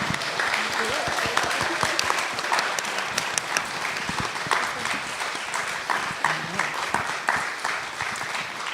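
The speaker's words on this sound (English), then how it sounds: "we should put our hands together and applaud" Audience applause at an evening mutual aid gathering, a steady wash of many hands clapping continuously throughout, dense and fairly close, with scattered sharper claps standing out.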